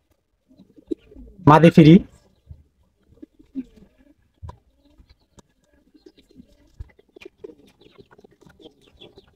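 A male red checker giribaz pigeon gives one brief strong coo close by, followed by scattered soft clicks and faint movement noises, with a voice speaking briefly.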